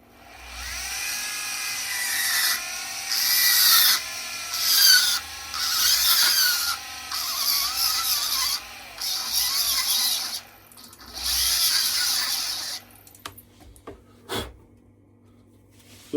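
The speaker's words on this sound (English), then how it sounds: "I just ran this carbide bit and made a rounded end to it." Power tool with a carbide bit rounding a notch on a custom Case XX Sodbuster Jr knife, a close, high whining grind in several bursts with brief pauses, followed by a sharp tap and quiet.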